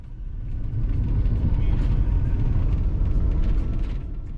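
Cars race at full speed along a narrow dirt and rock mountain road with a 2,000-foot drop, El Espinazo del Diablo in Oaxaca; a steady, loud engine and road rumble with tyre noise fills the whole stretch.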